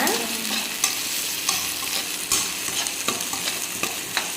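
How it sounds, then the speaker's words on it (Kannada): Onions frying in a pan until golden, giving a steady hiss of oil with repeated sharp scrapes and knocks of a stirring spoon, close up and with no one talking. "ನಾನು ಇವಾಗ ಆನಿಯನ್ ಚೆನ್ನಾಗಿ ಫ್ರೈ ಮಾಡ್ತೇನೆ."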